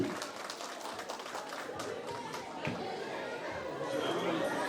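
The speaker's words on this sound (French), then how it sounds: "Beaucoup d'applaudissements pour lui, le général ambassadeur Philippe Mangou." Audience applause and chatter at a Woroba women's day gathering in Germany, honoring a general and ambassador; steady clapping and crowd murmur throughout, rising slightly toward the end.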